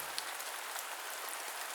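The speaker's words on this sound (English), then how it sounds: "The rain outside continued to fall" Rain falls on a tent at night in a soft, even, steady patter with no voices.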